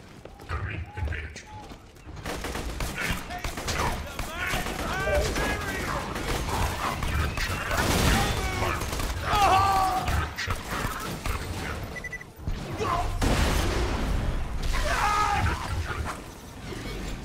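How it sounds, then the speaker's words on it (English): Pistol shots from Borderlands 2 crack in scattered bursts amid game effects and music, while players talk over the action. "I'm killing these guys with a pistol"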